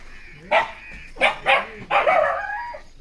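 Dogs barking in a few separate bursts, close and moderately loud, with short pauses between barks and a longer final bark.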